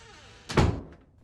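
A door shuts with a single solid thunk in a horror film scene, close and fairly loud, rising out of a quiet room tone and quickly fading.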